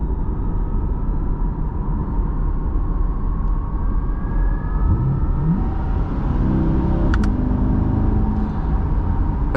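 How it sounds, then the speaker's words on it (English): A 2026 Corvette E-Ray hybrid's engine starts up and joins in while the car accelerates from inside the cabin, a steady loud rumble rising in pitch partway through, with no talking. "And the engine's gonna do this awesome transition,"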